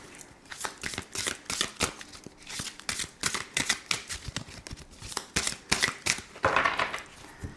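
Tarot cards shuffled by hand in a steady run of crisp riffling bursts and soft slaps, close and clear, with no talking.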